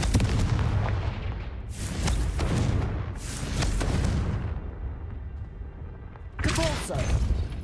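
Confringo fire spell explosions in Hogwarts Legacy, several heavy booming blasts with rumbling tails at about two, three and six and a half seconds, loud over continuous game noise.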